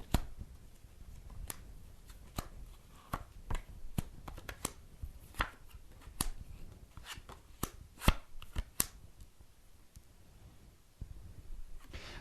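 Tarot cards being shuffled during a live psychic reading, heard as a steady run of sharp, close riffling snaps and slaps with brief pauses and no talking.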